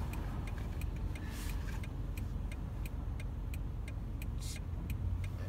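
Steady car traffic on a road, a constant low rumble of passing vehicles with regular faint ticking, probably a turn signal, heard from inside a vehicle and with no voices.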